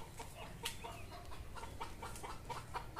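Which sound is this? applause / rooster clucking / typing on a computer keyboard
rooster clucking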